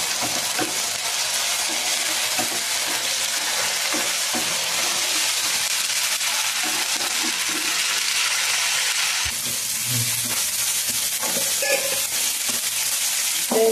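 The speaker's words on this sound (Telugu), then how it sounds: "వేగుతూ ఉందండి" A paste of ginger, garlic, cumin and coriander sizzles loudly and steadily in a pan as it fries for a chicken fry, with a brief stirring clatter partway through.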